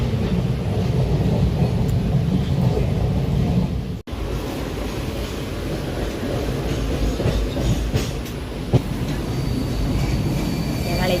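A train near a railway station rumbles in a heavy, continuous roar with clattering wheels and metallic squeals, loud and close, with a brief dropout partway and faint background commotion.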